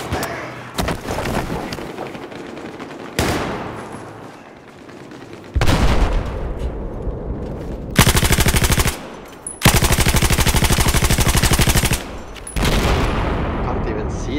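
Gunfire in Battlefield 4, with bursts of rapid automatic weapon fire alternating with single loud shots and brief lulls, loud and close throughout.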